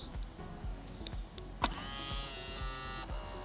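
Electric door handles on a Range Rover SV Ultimate motoring outward with a whirring mechanical hum, punctuated by small clicks and a sharper clunk midway, close and fairly faint, no talking.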